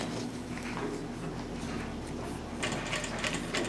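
A Vevor industrial sewing machine runs steadily while back stitching a double-layered ribbon tutu, its fast mechanical whir continuous and close, quickening slightly near the end.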